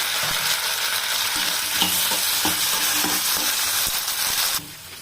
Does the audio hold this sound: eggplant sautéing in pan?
yes